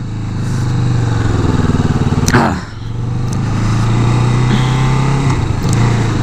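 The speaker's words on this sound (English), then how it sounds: "The motorcycle is very quiet." 2017 Kawasaki Vulcan S motorcycle engine droning steadily up close while riding, with a brief gear shift dip before the even rumble resumes.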